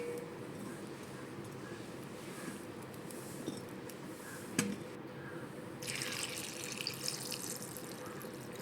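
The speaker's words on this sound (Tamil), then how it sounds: "தண்ணி ஊற்றி நல்லா கழுவி எடுத்துக்கலாம்." Water poured from a tap over seedless black grapes in a bowl being washed, a steady low splashing and trickling that runs throughout, close and moderately quiet, with a brighter hissing stretch near the end.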